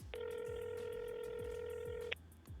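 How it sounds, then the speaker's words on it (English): An iPhone phone call starts with a short burst of dialing tones, then a steady ringback tone for about two seconds under faint background bumps, close and quiet, with no talking. "Let's call Gabby and put these microphones to the test"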